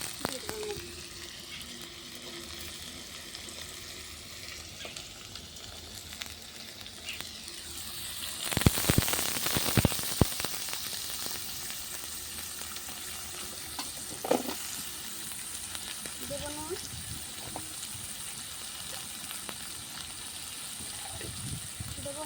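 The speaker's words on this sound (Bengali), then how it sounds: "ফোড়নটা আমার ভাজা হয়ে গেছে এবার দেবো আলু" Potatoes dropped into hot oil in a pan on a clay stove after tempering spices, bursting into a loud sizzle that settles into steady close frying with occasional stirring scrapes.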